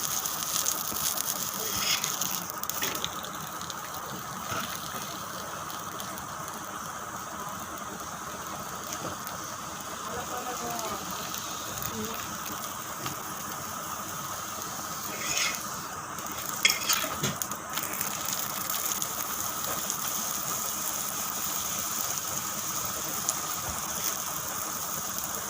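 Cabbage paratha fries in oil in a pan over a medium flame, giving a steady soft sizzle that continues evenly throughout, close and moderately quiet with occasional small crackles.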